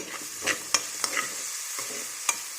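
Onions fry in oil in a pan, a soft continuous sizzle broken by several sharp scraping clacks of a stirring spoon against the pan, close and without voices.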